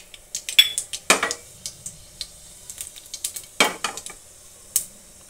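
Asafoetida and mustard seeds tempering in hot oil for a spicy okra dish, sharp spattering pops and crackles with a few metallic clinks of a spoon against the pan, close and intermittent over near silence.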